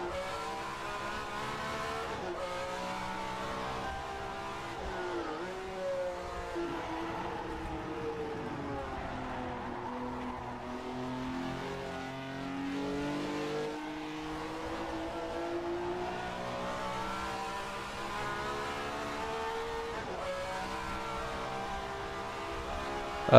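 1967 Formula One race car engine howling around the old 14 km Spa circuit in a racing video game: a continuous high-revving note rises and falls through gear changes, steady and prominent with no talking.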